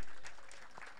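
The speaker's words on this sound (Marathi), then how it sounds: "जोरदार टाळ्या मुंबई संघासाठी" A crowd applauds the Mumbai team at a prize ceremony for a Pune tournament, a brief, fairly faint burst of clapping that fades.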